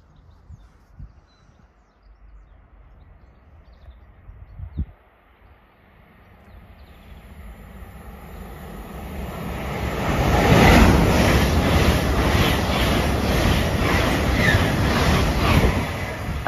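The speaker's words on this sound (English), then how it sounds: "Passing through now is an LNER Azuma service from Edinburgh Waverley to London King's Cross." An LNER Azuma train running from Edinburgh Waverley to London King's Cross passes through Wallyford. A distant rumble swells into a loud, rushing roar with rhythmic wheel clatter and a high whine, alone with no talk.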